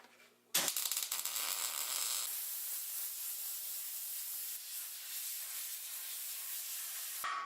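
A steel gusset being welded onto a Studebaker gasser, a harsh sustained crackling hiss that starts suddenly, stays loud and close for about seven seconds, then stops abruptly.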